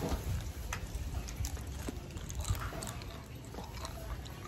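Close-up sticky chewing of a mouthful of Tommy chewy capsule candies, steady wet, squishy mastication with soft smacks and no pauses, heard up close and alone.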